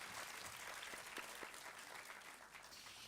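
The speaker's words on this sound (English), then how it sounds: "Let's have a huge round of applause for the poetry of Footsteps." Faint, steady audience applause at a school's inaugural ceremony for a model UN event, dense clapping heard from a distance and sustained for a few seconds.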